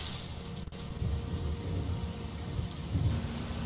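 Steady rain pours down in a Chess of Blades game scene, a dense close hiss with low rumbling underneath and a brief dip in the sound early on, no voices.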